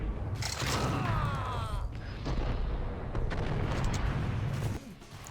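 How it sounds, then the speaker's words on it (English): Rapid gunfire from dual-wielded Beretta pistols in a 2001 New York underworld shooter with bullet-time, dense and loud with booming impacts, under a voice talking over it. "The shooting mechanics just feel so damn good when you run around dealing damage with your dual-wielded Berettas"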